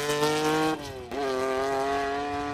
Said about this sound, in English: they were still throwing that Stratos around for the cameras out there on the stages